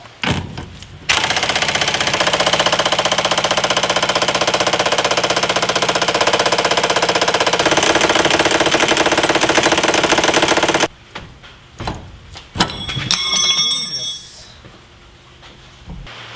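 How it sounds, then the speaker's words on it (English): Pneumatic air impact gun rattling loudly and continuously for about ten seconds as it works a stubborn bolt off a vehicle shock with a bar pin eliminator, then stopping, followed by a few clanks and brief shorter bursts. "Let's try some lube on there. And an air gun."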